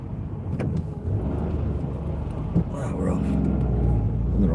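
A car pulls away in the wrong gear on a UK night drive, its low engine rumble steady and close, rising slightly and building in loudness toward the end with no other sounds over it.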